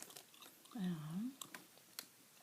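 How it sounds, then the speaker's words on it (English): Bubble gum being chewed close to the ear during a soft-spoken reading: a few quiet, moist clicks and smacks, with a low murmured voice sound in the middle. "Here's the gum I'm chewing tonight"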